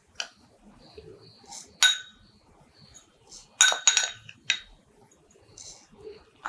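A metal spoon clinks against containers as spoonfuls of spices such as cumin are added for a home remedy; several sharp, bright clinks come in scattered bursts over a quiet background.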